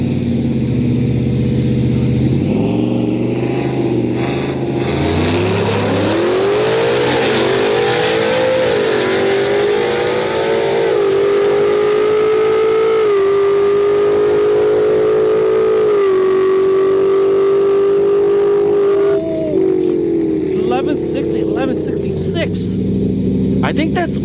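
A Turbo Yukon launching at a street-night drag race in Orlando, its engine roaring loud and steady as it rises through the gears, with a commentator talking over it throughout.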